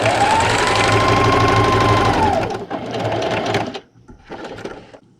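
A sewing machine stitches quilting fabric with its edge run along the presser foot, buzzing loudly and steadily for about two seconds, then running in shorter bursts with brief pauses between them.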